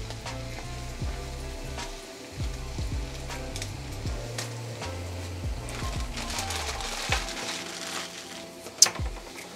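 Ground turkey with green peppers and onions cooks in a pot, giving a steady close sizzle and frying hiss with occasional scrapes and taps of stirring, fairly quiet throughout.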